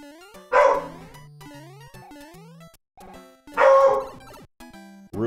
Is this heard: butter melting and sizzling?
no